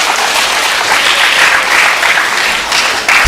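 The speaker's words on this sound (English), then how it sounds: "You can clap actually." Conference audience in a college hall in Erode bursts into loud, continuous applause, a thick wash of clapping holding steady with slight swells near the end.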